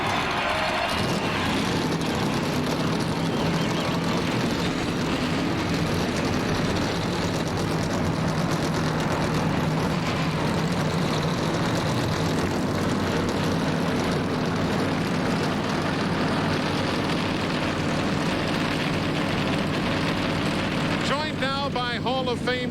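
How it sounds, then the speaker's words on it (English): NASCAR Winston Cup stock car engines fire up together at Rockingham, a dense, loud, sustained roar of many engines with a crowd and a public-address voice over it. "Gentlemen, start your engines."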